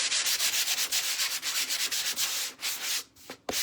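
Rhythmic sanding strokes rasp back and forth across a painted surface, steady and close, slowing to a few separate scrapes at the end.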